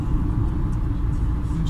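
A Kia Sportage coasts after the throttle is released, giving a steady low engine and road rumble from inside the cabin, with a voice speaking over it.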